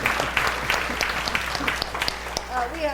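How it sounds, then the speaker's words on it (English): A round of applause fills the room: many hands clapping steadily and fairly close, with scattered louder claps, continuing throughout without pause. "go ahead, give him that round of applause"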